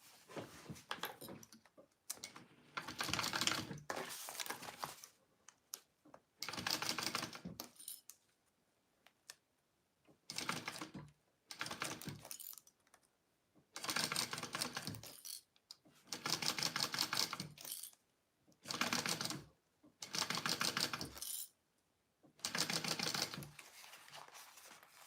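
A sewing machine bastes a clutch purse in repeated stop-start stitching runs of a few seconds each, separated by silent pauses, close and moderately quiet.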